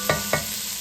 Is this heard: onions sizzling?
yes